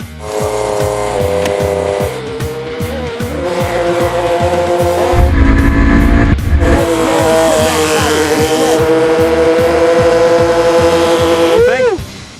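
A small car powered by a tiny LiquidPiston engine races by at speed, loud and close, its high buzzing engine note rising and falling with shifts and revs. Tires squeal near the end, and faint voices sound in the background.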